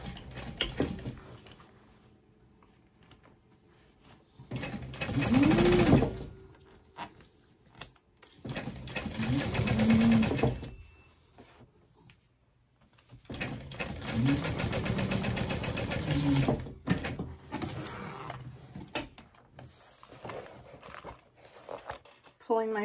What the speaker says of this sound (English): add a line of stitching to hold that in place.